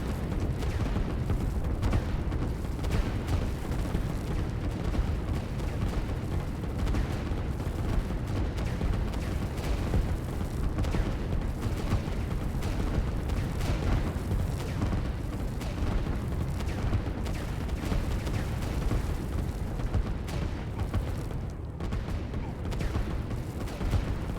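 Artillery and gunfire from the real-time strategy game Line War: a continuous, dense barrage of booms and rapid shots that rolls on steadily without letup, with faint talk in the background.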